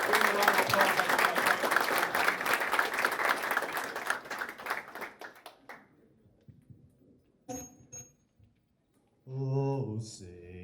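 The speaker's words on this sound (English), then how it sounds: "Give him a round of applause." Audience applause at a men's empowerment event, loud and dense clapping from a crowd for several seconds that thins out and fades, followed by scattered sounds and a brief voice.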